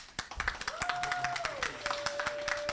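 An audience claps for a panel introduction at a stand-up comedy and free expression event: a steady, moderately quiet patter of individual hand claps, with a thin sustained tone running through it.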